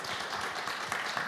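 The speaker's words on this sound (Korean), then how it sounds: "여러분 박수 한번 주세요." An audience at a corporate family-friendly networking forum claps briefly at moderate distance, a soft continuous patter of hands with no voices on top.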